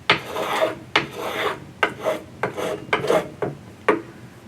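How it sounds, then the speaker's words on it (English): A finger plane shaves epoxy on a 1960s Truetone guitar in about eight short, rasping strokes at a steady rhythm, close and crisp, with no talk. "I've started using the finger plane"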